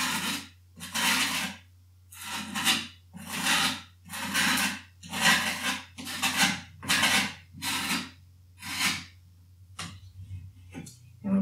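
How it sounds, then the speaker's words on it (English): Rhythmic scraping of excess paint off a painted rock, worked all around it: about ten regular rasping strokes in a steady back-and-forth pattern, close up, with a few quicker, lighter scrapes at the end. "I'm just going to go ahead and scrape this all the way around and get off the excess."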